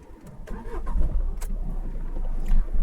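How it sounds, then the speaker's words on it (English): A car engine cranks and catches, then settles into a low idle rumble, close by and fairly loud, with no voices. "first I will start the engine"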